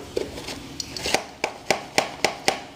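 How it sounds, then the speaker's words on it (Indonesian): Wooden model aircraft wing spar knocking against a large bolt at the wing-to-body joint, producing a series of sharp, close, evenly spaced taps, about eight clicks in under three seconds, with no speech. "Nah ini bunyi karena nabrak baut ini."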